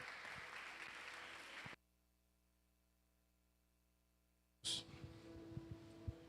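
Applause in a church service, a broad crackling burst for about two seconds that cuts off to near silence, then returns more loosely with scattered claps and room noise.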